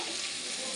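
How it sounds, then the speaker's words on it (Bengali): Spice paste for an egg curry fries in a hot pan, a close, dense, even sizzle and hiss that fills the short moment without a break. "এই দেখুন মশলা কষানো হচ্ছে"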